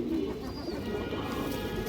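A good flying pigeon cooing close by, a low steady murmuring coo held over a constant background hum, no talk.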